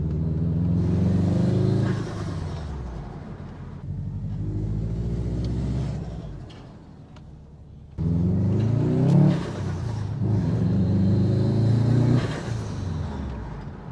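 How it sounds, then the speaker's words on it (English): A Subaru WRX with a dump valve is driven around the block, its engine rumbling and revving in several rising pulls. Brief hissing bursts come between gear changes, heard from inside the car. "I'm just going to go around the block. And that way you can hear what it actually sounds like when I'm driving as well"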